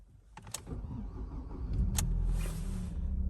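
A 2012 Ford Focus engine cranks and catches after being started with a newly programmed key, settling into a steady idle with a few brief clicks and rattles early on, close by with no talk.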